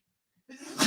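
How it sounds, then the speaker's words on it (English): A single short sneeze bursts out after near silence, close and sharp, with a quick intake of breath just before it. "stop sneezing"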